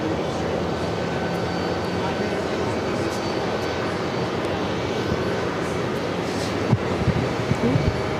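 An Etihad jet airliner rolls down runway 22 right at JFK airport as a steady, broad, distant roar with no break, and faint voices sound in the background.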